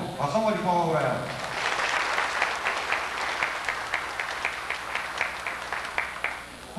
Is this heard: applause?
yes